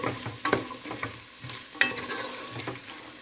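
A spoon stirs chickpea stew with meat in a pot, making several distinct scraping clinks at irregular intervals over a soft simmering hiss, close and moderately loud.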